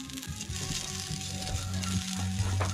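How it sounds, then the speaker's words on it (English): Hot dogs fry in a pan on a stove, giving a steady close sizzle and crackle with faint pops throughout and a low hum underneath. "So we got the dogs on the stove, got them frying up."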